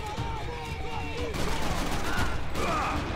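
Dense, rapid gunfire from the video game Max Payne 3 on hardcore difficulty, with overlapping bursts and shots rattling continuously throughout at high intensity, while a voice talks over the shooting.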